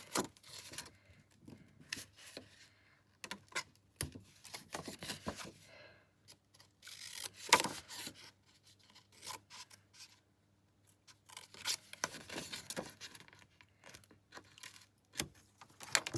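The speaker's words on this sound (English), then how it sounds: "then you get your scissors, and then you cut" Scissors snip and slice through paper in short bursts, close and quiet, separated by pauses with light rustling of the paper between cuts.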